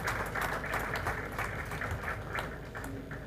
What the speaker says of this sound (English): Another round of applause for our presenter.